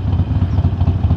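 A motorcycle engine runs close by with a loud, low, pulsing idle beat, heard alone with no talk over it.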